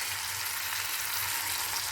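Soaked toor dal and turmeric frying with reddened garlic in hot oil, a steady, even sizzle with fine crackle, close and moderately quiet, no talking.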